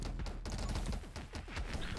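Grenades explode in rapid succession in the game 20 Minutes Till Dawn, a dense rolling barrage of overlapping booms and crackles that carries on without a break.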